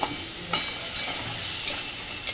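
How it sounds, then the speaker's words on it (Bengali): Spices sauté with ginger paste and a splash of water in a pan, a soft continuous sizzle punctuated by a few sharp stirring scrapes, with no one speaking. "ভালো করে এটা কষতে হবে।"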